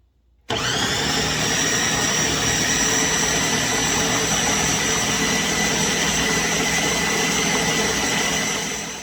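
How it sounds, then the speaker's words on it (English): A kitchen blender switches on and runs loud and steady, whirring through Jamaican-style Christmas rum cake batter in a constant, close roar that holds unchanged to the end, with no voices. "So we're just gonna blend this out. It's a little bit noisy."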